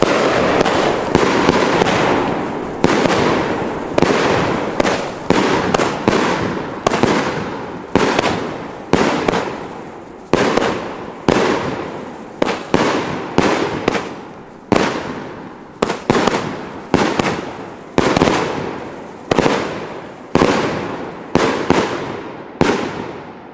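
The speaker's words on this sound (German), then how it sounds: "Wir zünden jetzt die Funke Eisbrecher hier." Funke Eisbrecher 25mm salute fireworks set off outdoors in a rapid string of loud, sharp bangs, dense at first and then spaced into regular bursts, each ending in a short crackling decay, with no voices.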